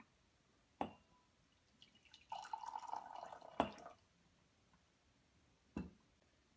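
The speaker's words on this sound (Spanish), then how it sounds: "Ponga el agua en el vaso." Water is poured into a glass while making tea, a short close gurgling trickle of roughly two seconds set between a few sharp clinks and knocks in an otherwise quiet kitchen.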